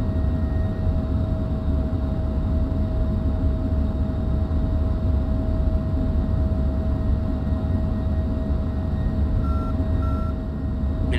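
F-15 Eagle jets roll for takeoff at an air base in the flight simulator DCS, a steady loud engine roar with a constant whine tone held throughout, no voices.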